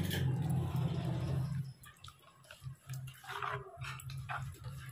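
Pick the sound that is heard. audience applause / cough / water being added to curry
water being added to curry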